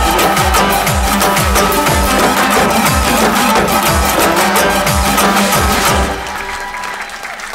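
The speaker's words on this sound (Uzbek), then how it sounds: "Qarsaklar bo'lsin." A theater audience applauding a comedy group at an Uzbek stage show, loud dense clapping with a rhythmic, partly unison beat that fades off toward the end.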